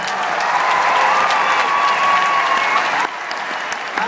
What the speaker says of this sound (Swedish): Ge dem en stor varm applåd.